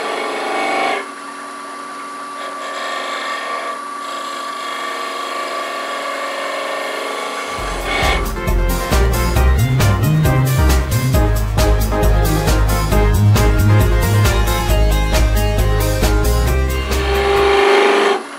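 A wood lathe turning a salt and pepper shaker: quiet workshop hum at first, then the lathe spins up and a tool cuts the wood with a loud, steady scraping whir for about ten seconds before it stops.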